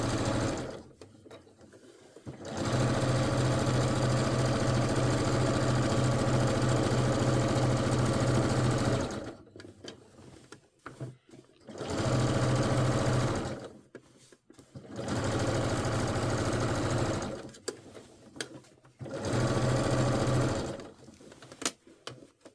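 A sewing machine stitches a quarter-inch seam around a pocket on a garment, running in four steady humming bursts of several seconds each, separated by short pauses and close by.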